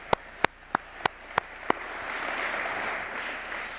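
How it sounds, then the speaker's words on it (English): A few sharp, separate claps ring out, then broad audience applause swells and holds steady at an arts awards ceremony, a roomful of hands clapping at moderate distance. "Yeah, a round of applause."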